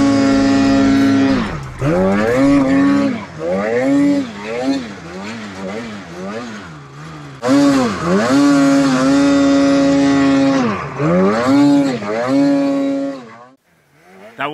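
A snowmobile with a 146-inch track rides through deep snow, its engine revving up and down repeatedly in a loud, close drone with rising and falling pitch that cuts off near the end.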